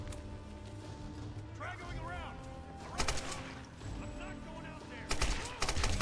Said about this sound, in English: there's people shooting at me